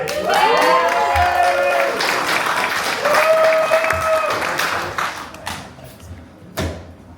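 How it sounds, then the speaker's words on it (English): Stand-up comedy audience claps and cheers loudly as a comedian takes the stage, broad steady applause with a few whoops that thins into scattered claps toward the end. "I am not accustomed to getting applause when I get up in front of people."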